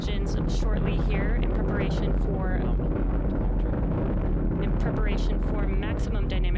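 Falcon 9 rocket climbing on its nine Merlin engines during a crewed launch, a loud, steady broadband roar with crackling bursts, heard alone with no talk.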